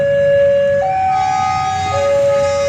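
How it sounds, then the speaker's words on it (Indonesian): A steady, loud tonal sound like a train's horn or station signal sustains as a train arrives at Blitar station, with a slight pitch shift midway and rumbling beneath. "kereta datang dari arah timur menuju ke barat, masuk ke stasiun Blitar"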